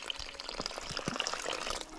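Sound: water pouring from a spring

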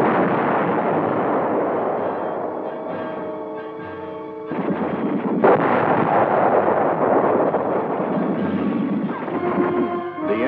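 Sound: tank guns and anti-tank guns firing in battle

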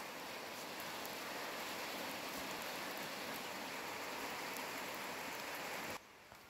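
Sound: rain

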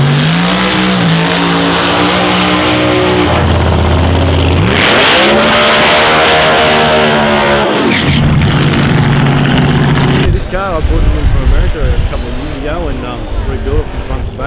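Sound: supercharged 1934 coupe Outlaw car engine revving

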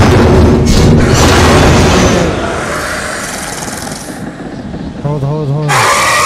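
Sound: flare gun shot in Until Dawn video game

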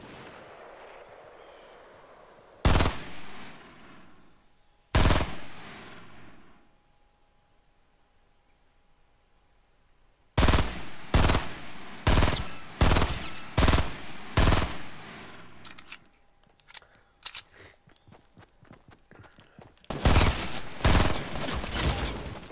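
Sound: gunfire shooting at a player in Fortnite video game

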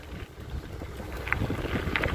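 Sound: wind

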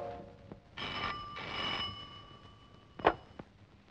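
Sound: telephone ringing on outgoing call

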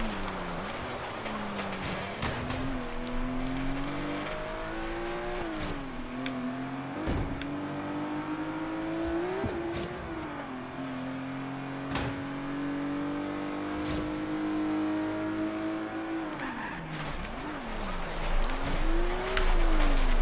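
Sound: Pininfarina Berlinetta car engine in Forza Horizon 3 video game

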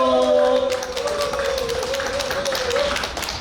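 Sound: audience applause welcoming a speaker

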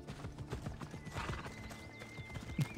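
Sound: horse hooves and neighing in the video game Assassin's Creed Odyssey

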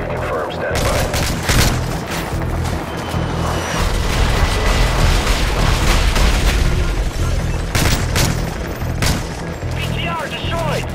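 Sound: explosions from air strike destroying vehicle in Modern Warfare 3 video game

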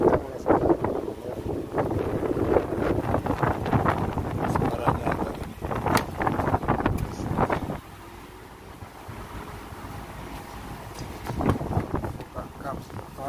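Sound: wind blowing against the microphone outside a Toyota Yaris 2023

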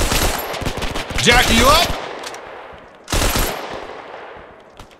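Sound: machine gun covering fire in Hell Let Loose video game

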